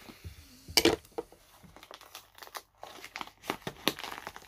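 Someone opens a tightly wrapped parcel at close range, with crinkling and tearing packaging in uneven bursts and scrapes that leave brief quiet gaps.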